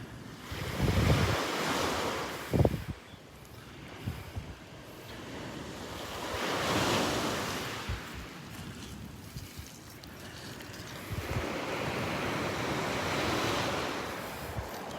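Ocean waves wash up on a beach at Marco Island, Florida, in slow surges that swell and recede about every six seconds, with wind buffeting the microphone and a couple of brief thumps near the start.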